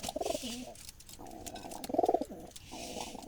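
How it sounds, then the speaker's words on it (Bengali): Wild Jalali pigeons coo at a pigeon farm in Dumuria, Khulna, with two or three soft, throaty bursts of cooing rising and falling against a quiet background. "পিওর জারালি বুনো কবুতর"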